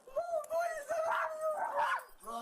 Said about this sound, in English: Dog barking.